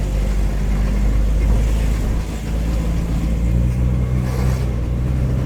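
A car climbing a rural hill road in Rancogne, France, a loud continuous engine rumble with steady road and wind noise, close inside the vehicle.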